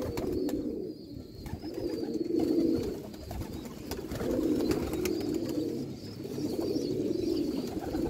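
Sialkoti pigeons coo in a steady, rolling rhythm, repeating in waves over soft background noise, with faint higher chirps from other birds.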